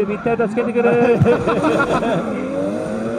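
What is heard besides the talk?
drift cars accelerating at Formula Drift Japan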